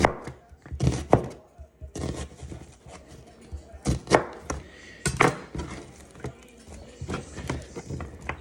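Onions for French onion soup chopped with a knife on a board, loud irregular clusters of sharp thuds close up, in bursts with short pauses between.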